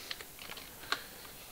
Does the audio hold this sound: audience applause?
no